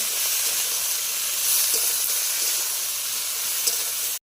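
Vegetables frying slowly in a pan for a Bengali shukto or cabbage dish, a steady close sizzle and hiss with faint stirring clicks, no voices.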